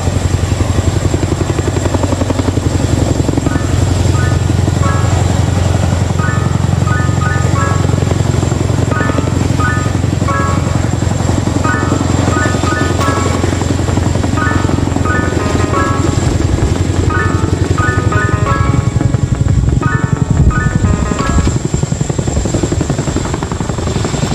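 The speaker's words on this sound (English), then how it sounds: "now you can see both the Chinooks are facing each other to perform its next maneuver" Twin-rotor Chinook helicopters manoeuvre at an Air Force Day air show in Chandigarh with a loud, continuous rotor drone and a deep engine rumble throughout.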